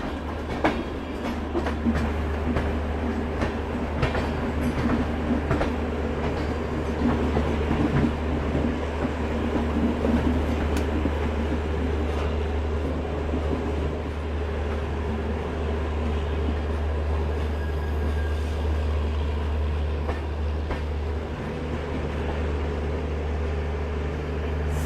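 Bhopal Shatabdi Express running on rails, heard from inside the carriage as a steady low rumble with faint rhythmic clicks and rattles continuing unbroken throughout.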